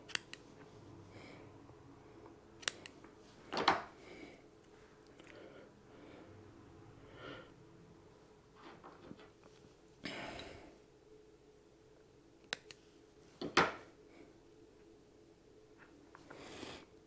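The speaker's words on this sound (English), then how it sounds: "A lot of hairs get trapped in there, so you'll do a little bit of trimming on it." Scissors snip stray hairs on a ghost minnow crappie jig, several sharp close clicks spread among quiet handling noises.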